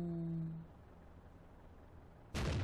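A tank cannon fires in the World of Tanks video game, heard as one sudden loud blast near the end after a dying engine tone and a stretch of low rumble.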